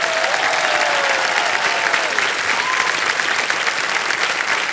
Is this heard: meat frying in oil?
no